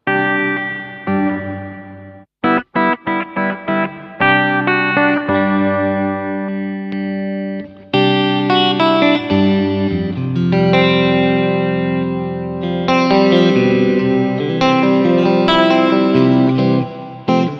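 Electric guitar run through reverb patches on an ART SGE multi-effects rack processor, loud chords and single notes with long washy tails, short choppy strums early, then sustained ringing phrases, no talk.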